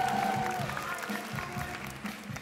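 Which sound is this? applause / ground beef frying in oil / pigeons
applause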